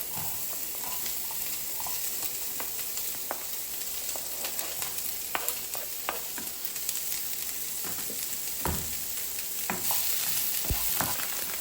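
Onions fry in sunflower oil for a Nigerian meat pie filling, producing a steady close sizzle dotted with sharp crackles and pops that grow busier toward the end, with no one talking.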